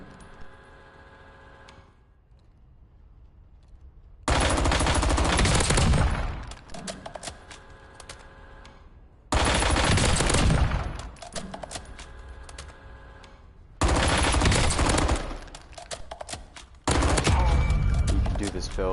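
Hip-fire bursts from a G3 build in Call of Duty Warzone, four loud sustained sprays of automatic fire each lasting a couple of seconds, separated by quieter stretches with faint clicks.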